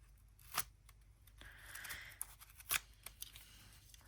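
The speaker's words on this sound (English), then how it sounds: "Let me get my scissors and cut this bad boy open." Scissors snip and slice through the wrapping of a brand new deck of cards, with a few faint, sharp cuts and crinkly rustling in a quiet room.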